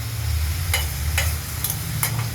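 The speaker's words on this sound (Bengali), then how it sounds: "বারে বারে কেবল নাড়াচাড়া দিতে হবে আর এটাকে পেতে পেতে দিতে হবে কড়াইতে" Chopped ash gourd fries in a wok while being stirred, with a steady soft sizzle and a few sharp scraping clacks of the spatula against the pan, close and without talking.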